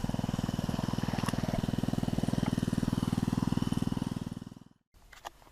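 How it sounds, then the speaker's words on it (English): A gold dredge motor runs steadily on Cadron Creek, a loud, close, even throb of small-engine pulses that holds for several seconds, then cuts off abruptly near the end, leaving quieter ambient sound. "Nice and quiet though, other than a dredge motor."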